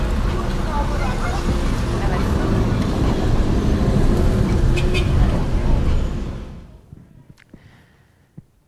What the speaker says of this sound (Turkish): canlı canlı trafiği gördünüz Beşiktaş Meydan'dan